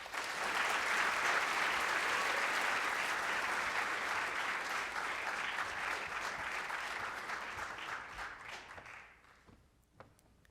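An audience applauds to welcome a speaker at a morning meeting at Taft. Sustained, full clapping holds steady for several seconds, then thins and fades to a few scattered claps.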